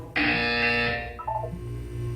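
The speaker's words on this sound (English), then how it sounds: "You will hear a buzzer. When you hear the buzzer, look down at the floor." In a video game, a loud electronic buzzer sounds once as a sustained bright tone for about a second, followed by a softer pair of lower descending tones.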